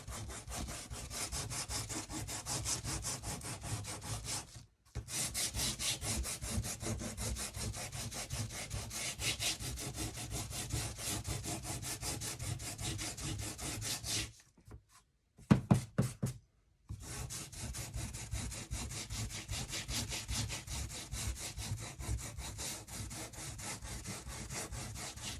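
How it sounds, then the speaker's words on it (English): A small handheld gator sander working a wooden pallet flag, a continuous fast rasping buzz that runs for long stretches, briefly stopping with a few knocks midway before resuming. "Just using this little gator sander that I got on Temu, actually."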